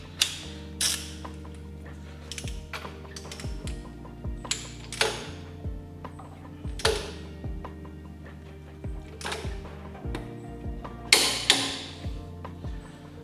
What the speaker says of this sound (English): it's time to torque the bottom crank bolt to 160 Newton meters.